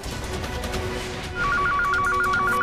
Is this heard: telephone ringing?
yes